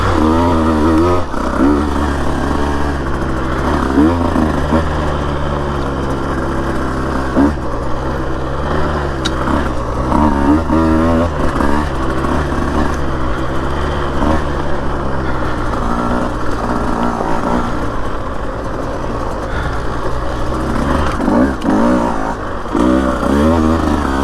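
A Husqvarna TE150 two-stroke dirt bike rides single track near Florence, Arizona, its engine buzzing and revving continuously up and down through the whole ride, loud and close as from the rider's own machine.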